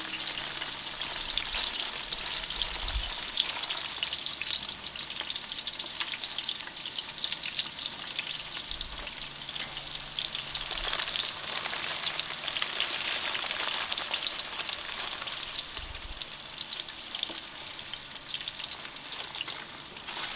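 Whole spices for vegetable biryani—star anise, black cardamom, cinnamon stick, bay leaf and cloves—frying in oil in a large pot over an outdoor fire, a loud continuous sizzle with occasional stirring scrapes.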